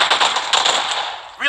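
A rapid, close burst of Uzi submachine-gun fire from a video game, loud and sustained for over a second before a short break and a brief voice.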